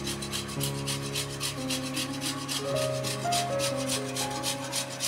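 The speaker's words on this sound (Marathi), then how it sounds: "बटाटा अशा पद्धतीने किसून घ्यायचा, बारीक किसायचा बटाटा" A boiled potato is grated, a rapid, even rhythm of rasping strokes that repeats close up throughout, with low tonal background hum beneath and no speech.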